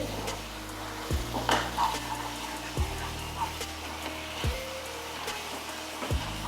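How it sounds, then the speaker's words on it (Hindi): Masala spices fry in oil for a bitter gourd curry with a soft, steady sizzle, while a spoon scrapes and clinks against the pan in slow stirs about every second or two. "मसालों को किसी ग्रेवी के साथ भून लेते हैं"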